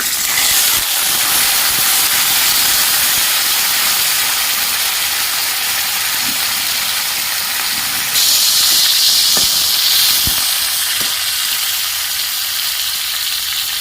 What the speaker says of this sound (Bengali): আমি উচ্ছেগুলো এবার ভেজে নিচ্ছি